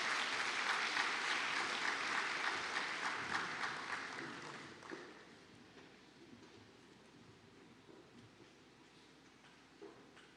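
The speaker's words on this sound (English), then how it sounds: "Could you give everybody a nice big round of applause?" Applause at a conference award ceremony, a broad crowd clapping that starts full and steady, then fades over several seconds into quiet room ambience with a few scattered claps.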